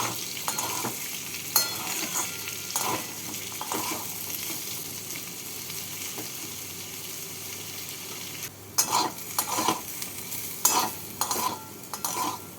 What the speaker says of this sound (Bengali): আলুগুলোকেও হালকা লাল করে ভেজে নিচ্ছি